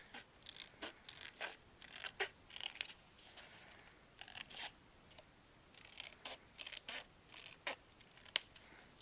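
Scissors snip paper for an angled craft pocket, a series of faint, crisp cuts at irregular intervals in a quiet room.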